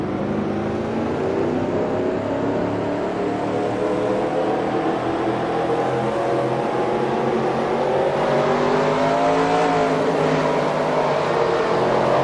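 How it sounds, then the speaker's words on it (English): Race car engines at Daytona Road Course in a racing video game, a dense layered drone of many engines revving and rising in pitch together, loud and continuous throughout. "Drivers, start your engines."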